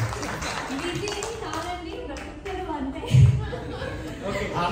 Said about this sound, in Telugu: ఒకసారి మీరందరూ చప్పట్లు కొట్టండి గట్టిగా